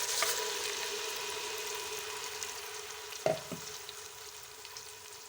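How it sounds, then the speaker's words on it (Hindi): Steady sizzling and frying crackle of tomato paste added to fried ginger in a pan, with a brief clatter of stirring partway through; no voices. "मैं इसमें 3 अदद टमाटरों का पेस्ट डाल दूँगी।"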